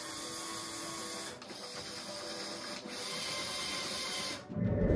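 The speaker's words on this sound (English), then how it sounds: "Moving just one motor moves it diagonally." LEGO EV3 motors drive the cart of a large LEGO vending machine with a steady close electric whir that dips briefly twice, then gives way to a lower rumble at the end.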